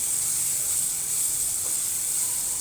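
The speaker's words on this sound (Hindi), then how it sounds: "हम इसको अच्छे से भूनेंगे।" Dry spices roast in a pan for keema, giving a continuous, even hiss that stays steady and fairly loud throughout, with no talking.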